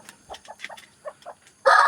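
An O-Shamo hen, the giant Japanese game chicken breed, gives a run of short, close clucks at an uneven rhythm, then a sudden loud, noisy burst cuts in at the end.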